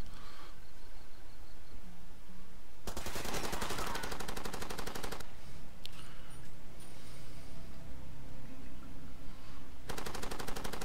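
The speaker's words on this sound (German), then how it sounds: "gehe ich doch wieder aufs Geschütz" Mounted gun firing in the video game Far Cry 2, with two long, loud bursts of rapid automatic fire and a short crack between them over steady background noise.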